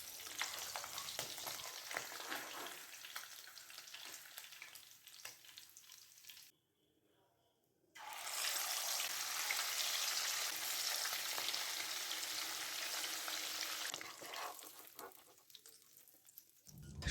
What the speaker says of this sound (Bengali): যখন মাছ দুই পিঠই ভাজা হয়ে যাবে তখন সব মাছ তুলে বাকি মাছগুলি একইভাবেই ভেজে নেব।